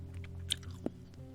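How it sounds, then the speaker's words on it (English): Close, quiet chewing of mint chewing gum, with soft moist mouth sounds and a couple of brief sharper bites, heard alone without talk. "That's some really good chewing gum."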